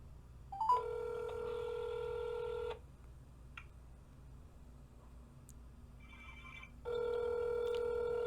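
A desk telephone line dials out with steady tones, then falls quiet before the same long ringback tones return on a call to a police lieutenant's desk that goes to voicemail. The tones are loud and continuous, with faint background noise in the gaps.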